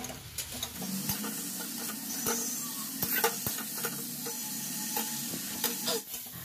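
Spiced masala and fried potatoes for a prawn curry being sautéed in oil, giving a moderate sizzle with frequent spatula scrapes and light clinks against the pan.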